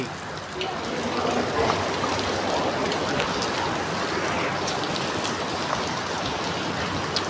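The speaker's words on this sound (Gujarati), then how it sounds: "વરસાદ આવી ગયો" Steady rain pours down throughout, a dense even hiss of drops striking surfaces, close and continuous with no gaps.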